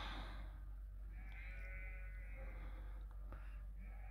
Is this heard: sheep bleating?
yes